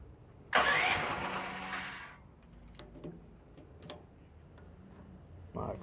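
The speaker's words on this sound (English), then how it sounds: "Let's go fire up one of these little mini excavators." A small engine on a mini excavator at an auction cranks and catches with a loud burst, then settles into a faint, uneven idle with scattered ticks and clanks, with no one talking over it.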